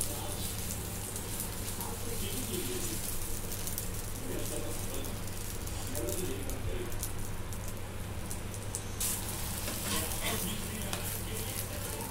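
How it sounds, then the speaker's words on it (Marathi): Pav bread rolls roast in a hot pan for pav bhaji, producing a continuous, fairly quiet crackling sizzle with a low steady hum underneath and a few brief clicks of handling. "पावभाजी याच्यामध्ये पाव भाजून घेऊ."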